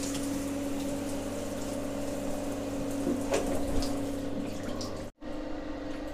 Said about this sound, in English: Yeah, I'm getting hot water.